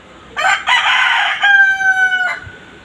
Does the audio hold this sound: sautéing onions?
no